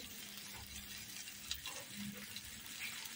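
Soft, steady sizzling of tomatoes and fish eggs frying in a pan, with faint stirring and occasional light taps, quiet and close.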